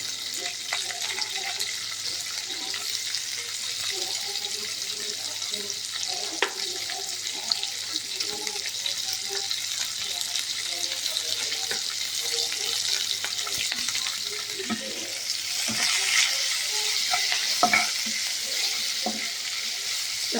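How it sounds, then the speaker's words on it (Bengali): Long-sliced onions fry in hot oil in a pan, giving a continuous crackling sizzle with stirring scrapes and clatter throughout, close and moderately loud. "লম্বা লম্বা করে কেটে রাখা পেঁয়াজগুলো আমি এর মধ্যে ছেড়ে দিলাম"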